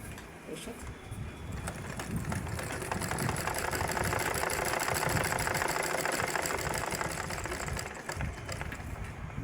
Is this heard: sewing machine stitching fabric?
yes